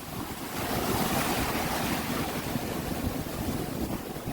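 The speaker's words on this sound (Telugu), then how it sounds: "వాటర్ ఫ్లో చాలా ఎక్కువ ఉంది" Strong, steady rush of turbulent water fills the whole span, loud and close, with a constant broadband roar and no voices.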